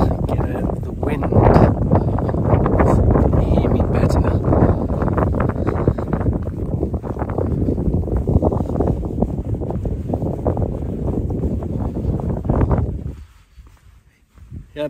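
Strong wind buffets the microphone at the top of the Applecross Pass mountain road in Scotland, a loud, continuous roaring rumble that suddenly drops away near the end.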